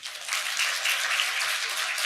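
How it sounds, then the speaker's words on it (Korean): An audience at a lecture claps continuously for about two seconds, a dense, steady burst of applause with no talking. "지금 자기들 다 이혼하고 싶으니까 박수를 많이 치시는 것 같은데"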